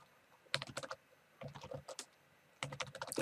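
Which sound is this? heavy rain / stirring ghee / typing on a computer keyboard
typing on a computer keyboard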